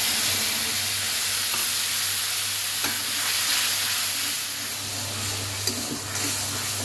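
Dry red chilli, cumin seeds and bay leaf spluttering in hot oil in a kadai, a loud continuous close sizzle with a low steady hum beneath and a few sharp pops near the end.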